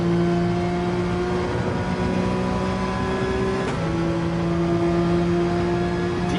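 GT3 race car in Gran Turismo 7 at the Barcelona circuit, its engine droning steadily at high revs with a brief dip and recovery as the car brakes once and gets back on the throttle, loud and continuous.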